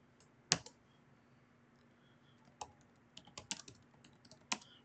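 Sparse computer keyboard typing: a handful of separate key clicks spaced over several seconds, fairly quiet against a low steady hum, with no talking.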